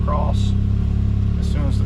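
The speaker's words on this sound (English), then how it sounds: "You'll hear the engine idle up when you put it in sport mode." A turbo side-by-side engine, a 2022 Can-Am Maverick X3 XMR Turbo RR Max, idles steadily with a low, even rumble, idling up in sport mode, while a person talks over it.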